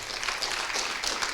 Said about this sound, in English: Can we please just give her another hands of applause?